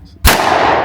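A single loud over/under shotgun blast fired at a clay target on a shooting range, a sharp close crack followed by a short rolling echo.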